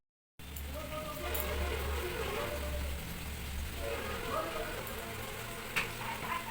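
Fish coated in turmeric and salt frying in hot oil, a steady loud sizzling hiss that runs the whole time with faint clinks, close by and without talk.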